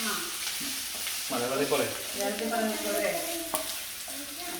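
Green beans stir-fry in a pan with sautéed ginger garlic paste for a Chinese green bean salad, giving a steady close sizzle with scraping stirs, and a voice briefly speaks over it.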